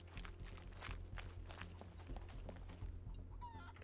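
A chicken in the survival game SCUM clucks in short bursts over footsteps and a low steady hum of game ambience, moderately close but quiet in the mix.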